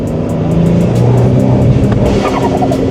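A tuned BMW 335i E90 with the N55 engine runs rough and misfires, a loud close continuous engine drone with uneven stumbling pulses throughout.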